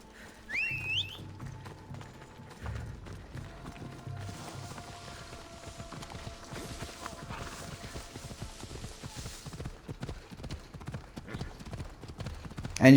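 Horse hooves clip-clop steadily along a road in the video game Assassin's Creed Odyssey, a continuous galloping rhythm at moderate volume with faint background music.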